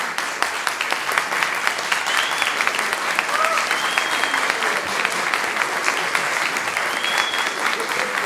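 Sustained applause from an audience at the awards ceremony for a short-film competition, a dense steady wash of many hands clapping for several seconds, loud and even, with faint voices beneath.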